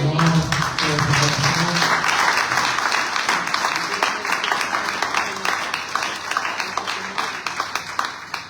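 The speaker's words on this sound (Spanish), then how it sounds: "¿Cuántos dan un fuerte aplauso al Señor?" Church congregation applauding during a Sunday service, with loud mixed clapping that gradually thins into a more rhythmic, unified beat, and voices heard faintly at the start.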